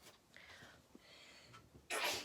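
A single sharp, loud sneeze bursts out near the end after a stretch of quiet, faint background sound.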